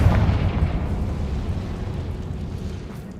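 A Confringo fire spell bursts in the game Hogwarts Legacy, a loud low rumbling explosion that opens strongly and then rolls on and slowly fades, heard alone.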